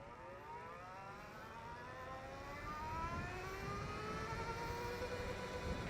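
An Energica Eva EsseEsse9+ electric motorcycle accelerates hard, its rising motor whine sweeping upward in several steady harmonic lines with a smooth whirring tone and no engine pulses, loud and close throughout.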